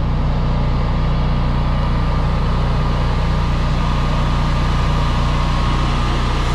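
A Generac 24 kW standby generator runs outdoors in winter, giving a steady, even engine hum with a constant low rumble and broadband whir that never changes in level, heard up close.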